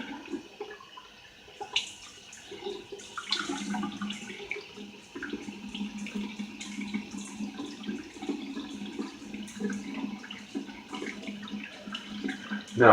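Tap water runs into a bathroom sink during a shave, a steady splashing stream with light clinks and handling sounds throughout, fairly close and moderately quiet.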